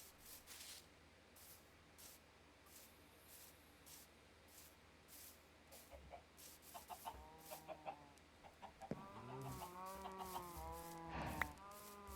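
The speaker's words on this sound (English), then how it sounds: "Now I can lure the chickens in." Minecraft chickens cluck faintly in quick, uneven bursts that grow busier toward the end, sitting over a soft, constant background hiss.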